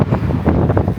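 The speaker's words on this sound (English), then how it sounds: "It's so windy. I apologize for the wind." Strong wind buffets the microphone beside a truck parked outdoors, a loud, continuous low roar with rapid gusty flutters.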